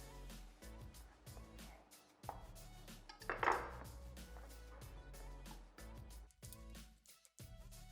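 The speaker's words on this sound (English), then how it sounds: "So I'll just trim the ends and I will cut them in half" A knife slicing baby zucchinis in half on a cutting board, giving a few quiet, separate cuts and taps against the board in a calm kitchen.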